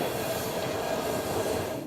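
Toronto subway Line 3 train rolling along, a steady, fairly quiet rumble with a faint high wheel whine, heard from inside the car with no talking.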